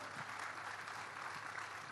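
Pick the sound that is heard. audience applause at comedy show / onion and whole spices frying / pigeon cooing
audience applause at comedy show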